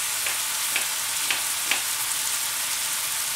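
Beef frying in a pan gives a steady, bright sizzle throughout, with a few soft clicks of stirring spaced through it and no voices.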